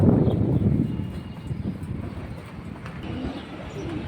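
Pigeons, including female chila and khaki birds kept for sale, cooing in low, soft repeated murmurs against a steady background hum, with no talking.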